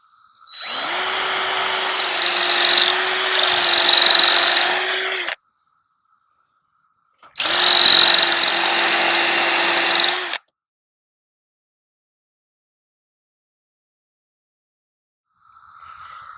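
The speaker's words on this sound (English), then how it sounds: "We just have this very basic DeWalt 20-volt drill" A DeWalt 20-volt cordless drill whirs loudly in two sustained bursts, a few seconds each, grinding into masonry, with silence between and a faint noise at the end.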